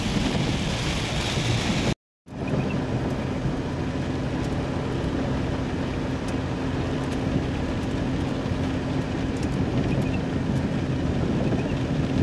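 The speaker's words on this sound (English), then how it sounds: "Now you're just hearing the thunder." Thunder rumbles through a storm heard from inside a vehicle while driving, a steady loud low roar mixed with rain, broken by a brief dropout near the start.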